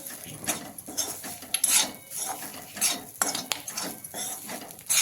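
Chili powder stirred into hot tempering oil in a pan, with a continuous busy scraping of a metal spoon against the vessel and light sizzle underneath, steady and close, no voices.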